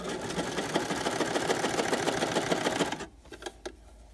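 A sewing machine stitching cloth for washable toilet paper runs in a fast steady mechanical whir for about three seconds, close and even, then stops abruptly, leaving a few faint clicks.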